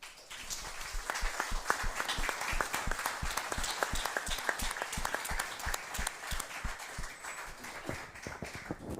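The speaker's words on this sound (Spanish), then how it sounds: "les voy a pedir un aplauso de bienvenida para ellos" A live audience at a San Sebastián talk gives a sustained round of welcoming applause, many hands clapping densely and steadily at an even, moderate loudness throughout.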